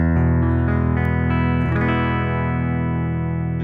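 A clean, sustained acoustic guitar tone from a guitar plugin rings out steadily with bright harmonics and a soft attack, alone and fairly loud.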